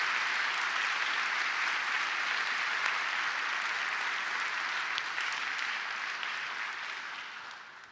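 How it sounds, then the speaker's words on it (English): Sustained applause from a keynote audience at an AI conference, a dense even wash of clapping that holds steady and tapers slightly toward the end. "give them a huge round of applause for that"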